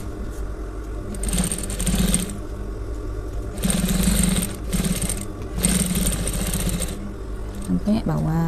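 A sewing machine stitches a shirt collar in three loud, sustained runs of rapid mechanical whirring separated by brief pauses, close by, with a voice speaking near the end.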